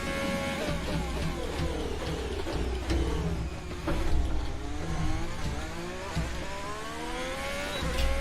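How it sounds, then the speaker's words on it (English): Haas Formula 1 race car engine in the F1 2020 video game, a loud, continuous high-pitched whine that keeps rising and dropping through gear changes as the car accelerates, with no voices over it. "I like Haas, but not the engine sound."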